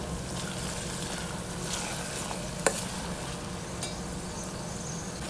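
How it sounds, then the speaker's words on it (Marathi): Onions sautéing in a pan for prawn masala make a soft, continuous sizzle with faint stirring scrapes and a single sharp utensil tap partway through. "आधी कांदा ॲड करून तो चांगला परतवून घ्यायचा आहे लालसर होईपर्यंत"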